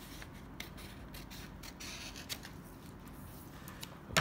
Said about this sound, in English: you then cut all the way up along the fold